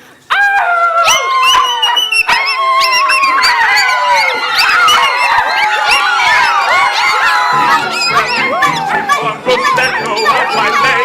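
Several voices sing in dense harmony over music, sliding up and down in long, wavering howl-like tones that imitate dogs, loud and continuous throughout.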